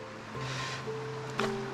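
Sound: creek water flowing

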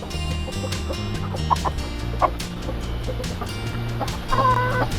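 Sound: chicken, black-legged rooster clucking

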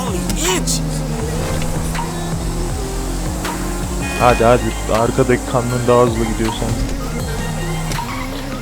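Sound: car engine driving in video game GTA 5

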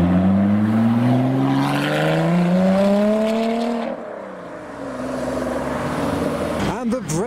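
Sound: Audi R8 car leaving a car meet

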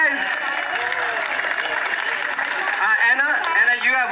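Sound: applause

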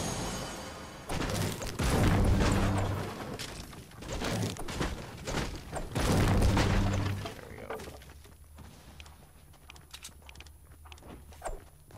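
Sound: breaking wooden pallets for wood in Fortnite video game

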